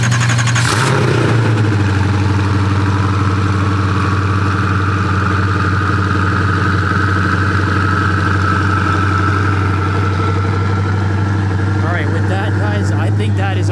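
Koenigsegg CC850 engine running at Monterey Car Week, a loud steady idle with a rising, sustained rev, heard up close under crowd chatter.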